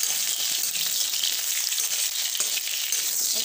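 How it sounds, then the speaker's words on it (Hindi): Pointed gourd (parwal) frying in oil makes a dense, even hiss close to the pan, steady throughout with faint stirring clicks. "परवल डाल देती हूँ फ्राई होने के लिए।"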